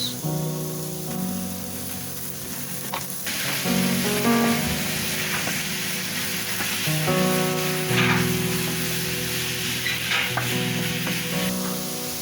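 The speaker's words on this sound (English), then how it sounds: "Then now we are going to add our minced meat." Minced meat with grated carrot sizzling in a pan, a steady bright crackle of frying with scraping stirring strokes layered on top, close and continuous with no talking.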